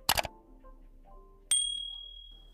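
A Zebronics Zeb Feel 4.1 speaker gives a single bright electronic beep as it switches to Bluetooth mode. The beep rings out and fades, following a brief clatter of handling.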